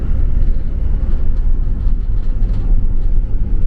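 A steady low rumble of a light rail train passing on rails near LRT Ciracas station in Jakarta, loud and continuous, with heavy traffic-like drone throughout.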